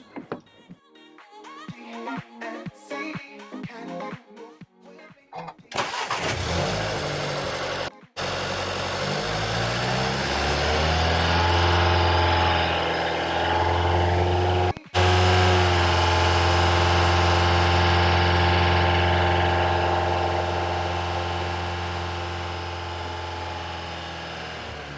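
Car engine running and held between 2000 and 3500 rpm during a battery analyzer test, starting after brief clicks and settling into a loud, steady drone with a gently rising then easing tone.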